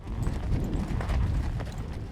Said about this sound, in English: Driving a herd of horses and mules 100 miles.